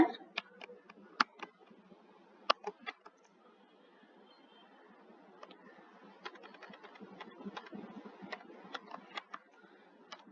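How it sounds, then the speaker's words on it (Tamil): Typing on a computer keyboard produces faint, sparse keystroke clicks, irregular and spread over several seconds, with short quick runs of taps and pauses between them, against a quiet background. "இப்ப இங்கிலீஷ்ல டைப் பண்ணியாச்சு"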